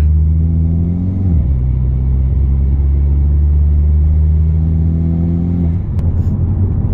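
A loud engine in a Mk6 Volkswagen Jetta GLI fitted with a Golf R K04 turbo drones and climbs in pitch, drops abruptly as it shifts gear, then climbs again, heard from inside the vehicle.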